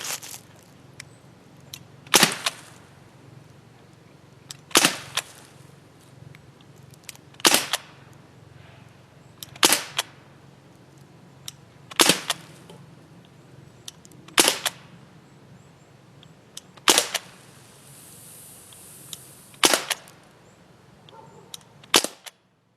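Crosman 1077 CO2 air rifle fired nine times in steady succession, each shot a sharp, loud snapping crack spaced about two to three seconds apart over a quiet outdoor background.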